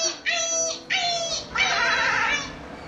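A voice imitates a dog, giving a couple of short whining yips followed by a longer howling whine, close and loud.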